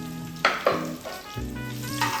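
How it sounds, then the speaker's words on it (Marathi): Mustard seeds, curry leaves and chopped chillies fry in hot oil and ghee, with sharp sizzling bursts and pops rising over a steady crackle, close and fairly quiet, no voices. "1 चमचा मोहरी ॲड करून घेऊयात आणि कढीपत्ता आणि चॉप केलेल्या मिरच्या"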